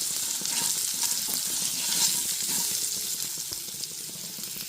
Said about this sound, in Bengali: আলুটাকে লাল করে ভেজে নেব